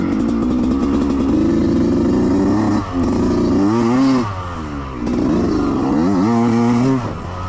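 A motorcycle engine roars loudly and steadily on an uphill stretch of Pleasant Creek Raceway, its pitch rising and falling as the rider shifts through gears and revs hard.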